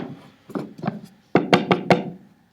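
Knuckles rap on a locked wooden door in two close bursts, first three hollow knocks, then a pause and four sharper, louder knocks in a steady rhythm, with no voices.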